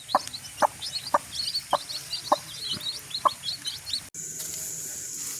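A rooster crows and hens cluck in a quick, steady rhythm, with small birds chirping faintly in the background.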